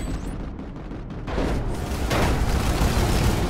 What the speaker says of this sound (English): Where's the flak coming